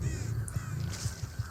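Birds calling in a swamp area of the video game Evolve: a run of harsh, crow-like caws repeating in an uneven rhythm over a steady low background hum, with no talking.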